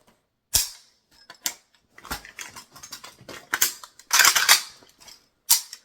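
Rapid AK rifle magazine reload: a quick series of sharp metallic clicks, rattles and a hard slap of the magazine seating, close and crisp with short pauses between the bursts.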